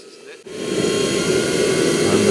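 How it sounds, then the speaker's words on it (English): A jet engine spools up from near silence into a loud, steady roaring whine that builds and holds, close by. "You can hear the engine starting."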